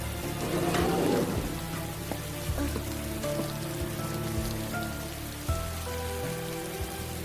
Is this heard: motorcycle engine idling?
no